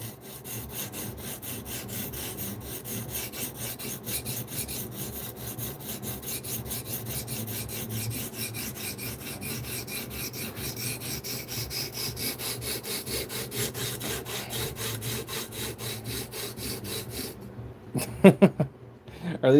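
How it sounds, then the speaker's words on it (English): An S90V steel knife blade being sharpened on diamond stones, giving a steady, continuous gritty rubbing and rasping close up, with strokes blending together before a few sharper knocks at the end. "You definitely hear those diamonds fighting with that 15V."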